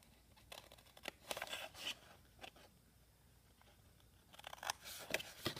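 Scissors make short, close snipping and rustling cuts in bursts, trimming tabs and corners for a box frame, with quiet gaps between the cuts and no talking.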